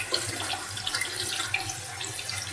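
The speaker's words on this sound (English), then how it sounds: "it's frying in here on this side" Spices sizzling in hot oil while cooking mattar paneer: a dense, continuous bright crackle and hiss with small pops, close up and steady, with no talk.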